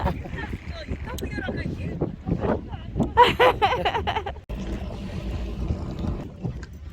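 Cold wind buffeting the microphone at a fishing harbor on an overcast evening, gusty rumbling roar with people talking and laughing over it.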